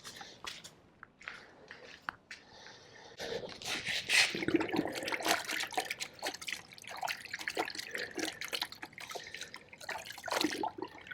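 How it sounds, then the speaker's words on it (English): Microfiber cloth swished and squeezed in a bucket of blue no-rinse car wash solution, with close wet sloshing, dripping and squishing that grows busier midway and continues unevenly. "take 1 of your microfiber cloths and put it in the blue solution and just kind of get it stirred up and mixing"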